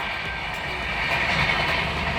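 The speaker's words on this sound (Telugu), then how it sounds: "కేశవరం నుంచి ఇది ట్రైన్ రాజమండ్రి వెళ్తుంది అనమాట అండి." A nearby train on the line from Kesavaram toward Rajahmundry rumbles past a car with a steady, fairly loud roar and faint rhythmic clatter of wheels.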